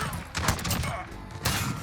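Two heavy, booming shots ring out from a Rytec AMR .50 caliber sniper rifle firing explosive rounds in a video game, each a loud broadband blast with a short rumbling tail, about a second apart.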